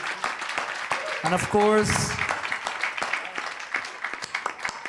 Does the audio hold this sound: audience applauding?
yes